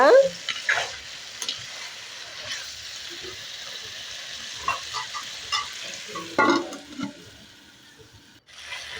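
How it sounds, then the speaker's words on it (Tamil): Brinjal sautés in a pan while a spoon stirs it, giving a soft continuous sizzle broken by scraping, clinking stirs at irregular moments, close and moderately loud. "நல்லா சுருளை பதம் வர வச்சு வதக்கணுங்க."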